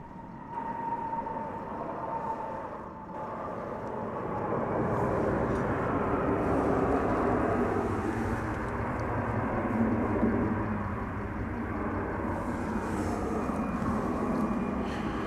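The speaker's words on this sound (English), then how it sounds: "It was Flight 633 from Phoenix, an Airbus A321 of the Neo variety." An Airbus A321neo arriving at DFW on a flight from Phoenix gives a steady broadband jet roar that swells gently and holds at moderate loudness throughout, with no talk.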